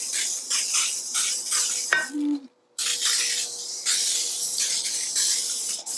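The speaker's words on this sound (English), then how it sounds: "This darn coconut oil spray always gets all clogged up, but it'll do what I need it to do." Coconut oil cooking spray hisses onto a pan from a clogging can in several sputtering bursts, with a brief clatter and a short silent gap midway.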